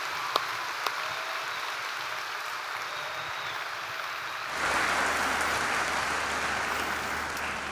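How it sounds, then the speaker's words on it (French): Scattered applause swells partway through into steadier clapping from a congregation at a Sunday church service, moderately distant and even. "juste les encourager en les applaudissant"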